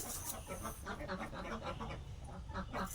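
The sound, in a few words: domestic ducks quacking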